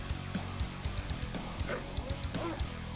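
Attack dogs in Command & Conquer Red Alert barking and yipping in a rapid run of short, sharp bursts, fairly close and clear, with a faint whimper among them.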